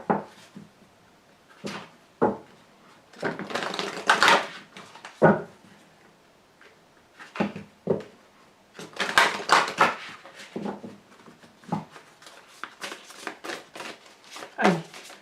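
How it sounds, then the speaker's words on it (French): Tarot cards are shuffled and drawn for a reading, making repeated papery riffles, slaps and soft rustling bursts at close range with short pauses between them. "je vous tire une carte"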